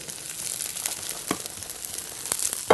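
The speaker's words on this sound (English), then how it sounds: "So then our fish is off to a nice sizzle." Fish frying in a hot iron skillet gives a steady crackling sizzle throughout, close and moderately loud, with a few sharper pops and spatters and no talking over it.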